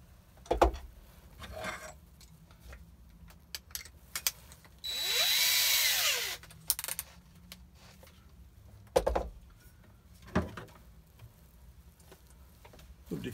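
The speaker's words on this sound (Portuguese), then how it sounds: "E eu vou girar ela com uma furadeira normal, uma furadeirinha dessas de mão mesmo" A handheld electric drill turning a pistol recoil buffer plug whirs for about a second, rising and falling in pitch, surrounded by scattered clicks and clunks of handling.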